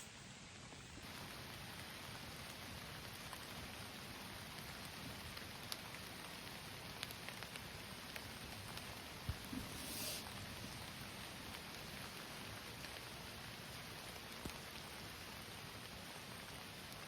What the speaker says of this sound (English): It's drizzling in the woods, but hopefully something's moving around tonight.